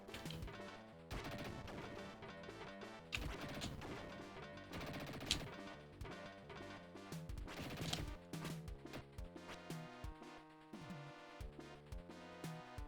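Dynamite explosions in the Dick Tracy video game go off as several sharp bursts spaced across the stretch, partly buried under busy, loud game music that plays throughout.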